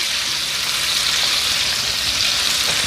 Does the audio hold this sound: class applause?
no